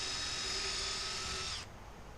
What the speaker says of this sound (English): I've always just drilled these out to this next size up fuel line